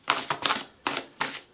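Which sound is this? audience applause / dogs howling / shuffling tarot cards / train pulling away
shuffling tarot cards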